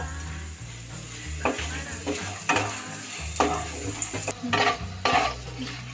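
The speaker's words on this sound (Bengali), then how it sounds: "এবার প্রথমে আমি বড়িটাকে ভালো করে ভেজে নেব" Pea-lentil dumplings (bori) frying in hot oil, with a bubbling sizzle and frequent scrapes and clinks of a spatula against the pan, close and steady.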